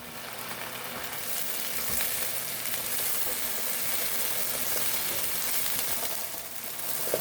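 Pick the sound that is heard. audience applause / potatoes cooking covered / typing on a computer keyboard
potatoes cooking covered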